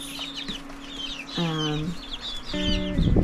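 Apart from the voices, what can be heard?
young chickens clucking on a farm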